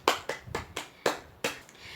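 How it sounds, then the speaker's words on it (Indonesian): Hands clap in a classroom as children applaud a classmate. About six sharp, separate claps land at uneven intervals over two seconds, fairly faint and with no talking. "Beri tepuk tangan dong untuk Reno"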